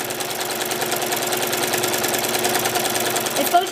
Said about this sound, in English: as you can see, it's just doing straight line stitch.